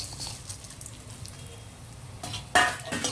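Coriander seeds, cumin and garlic fry in a little oil in a pan, making a soft, steady sizzle close by, with a sharper crackling burst near the end.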